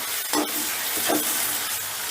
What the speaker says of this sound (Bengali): রসুনটা একটু নাড়াচাড়া করে নিচ্ছি।